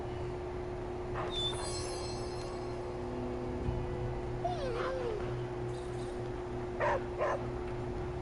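Dog in Midnight Suns giving a few soft whimpers and short yips, spaced apart over a steady low hum, fairly quiet and close.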